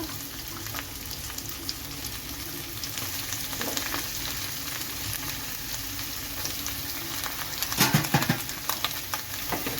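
Chopped green mango stir-fries in a hot pan with curry leaves and mustard seeds, a steady soft sizzle with light scraping as it is stirred, fairly quiet and close.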